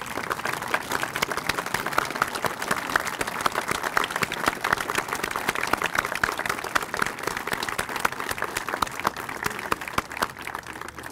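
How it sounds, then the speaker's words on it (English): An audience at a Memorial Day ceremony applauds World War II veterans: sustained, dense clapping from many hands, steady and even throughout without a break. "Any World War II veterans, please stand up and receive a great round of applause."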